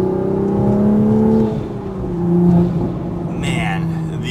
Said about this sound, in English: Man, the downpipe and the exhaust really added to the pops that the car makes in sport mode